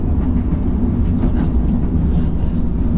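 A light rail train rumbles loudly and continuously at a station nearby, a deep steady roar of rail cars moving.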